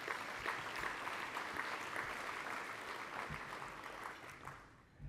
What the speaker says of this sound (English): I think that's worth a round of applause.